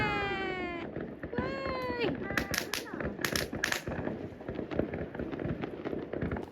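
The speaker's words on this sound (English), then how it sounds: "watched the amazing fireworks from basically 3-4 little villages all stuck together" Fireworks over Sicilian coastal villages on New Year's Eve crackle and pop in dense bursts, with tonal whistles and voices mixed in throughout.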